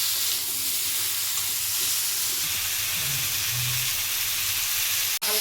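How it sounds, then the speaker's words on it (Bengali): Vegetables frying in a hot pan with a steady hiss of sizzling oil and faint occasional stirring, close and continuous, ending with a sharp click. "হালকা করে একটু ভেজে নেব"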